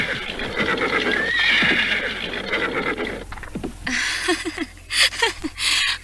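A horse whinnies and snorts nearby, with hoof clip-clops and rustling in an outdoor setting; the animal sounds winded after hard riding, the calls coming in short bursts toward the end, no voices.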